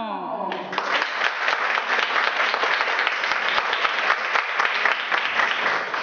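An audience bursts into loud, sustained applause to welcome a morning event host, the clapping starting abruptly after a brief voice and filling the hall densely and evenly to the end.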